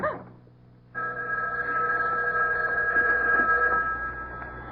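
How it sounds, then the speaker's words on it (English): A house telephone rings in an old-time radio mystery drama. A short tone fades into a pause, then a sustained bell-like ring carries on steadily at moderate loudness. No speech is heard. "Stood there listening to it ring."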